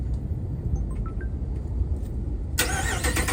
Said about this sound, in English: I'm gonna go ahead and hold the remote start button down.